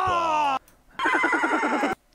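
A horse neighs twice, close and loud: first a bright, sustained whinny, then after a short gap a longer, shaky, quavering one.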